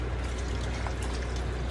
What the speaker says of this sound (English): I added about another cup of water at the moment.